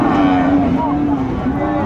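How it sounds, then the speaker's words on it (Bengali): A 10-11 month old Friesian bull calf at a cattle market in Dinajpur gives a drawn-out, wavering moo close by, over a busy background of market noise. "ফ্রিজিয়ানের ষাঁড় বাচ্চা।"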